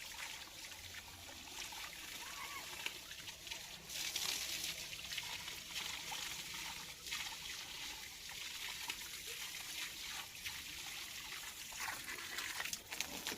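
Water trickles and splashes steadily as plants are watered by hand, a soft continuous dribble close by with a few brief louder spatters and no talking.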